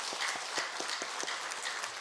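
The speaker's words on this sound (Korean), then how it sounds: "다시 한번 우리 격려 박수 드리겠습니다" A church congregation applauds the combined choir at a Christmas thanksgiving service, a steady wash of clapping with a few sharper individual claps standing out throughout.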